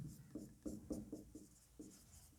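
A pen or marker scratching out short strokes during a physics lesson, quiet and close, in a quick uneven rhythm of about eight small scrapes with no talking.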